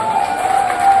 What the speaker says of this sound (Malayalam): ഒരു കയ്യടി കൊടുത്തോണ്ട് തുടങ്ങാം അല്ലെ.